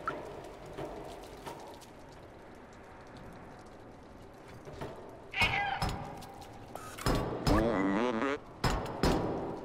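In the video game Stray, a cat lets out several clear meows in the second half, each with a drawn-out, wavering tone. Before them is a quiet, rain-like ambient hiss.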